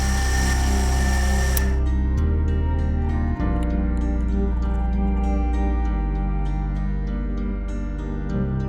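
Whining small power drill boring an axle hole in a tiny metal orrery part, steady and close, shifting pitch as the load changes, with rhythmic scraping ticks above the whine.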